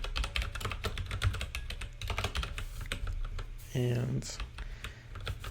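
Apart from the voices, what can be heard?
typing on a computer keyboard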